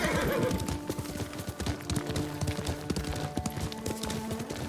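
A horse gallops under its rider in the video game Ghost of Tsushima, with fast rhythmic hoofbeats that continue throughout and a whinny near the start.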